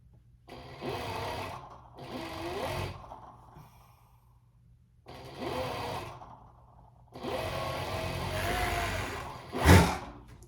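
A sewing machine stitches a fleece qaspeq in three separate bursts of steady whirring with quiet pauses between, close by, plus a sharp noise near the end.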